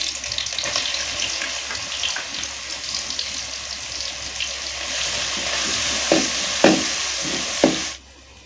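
Crushed ginger and garlic sizzle steadily in hot oil with cumin in a pan, with a few soft scrapes and knocks of a spatula stirring near the end, close and continuous with no talking.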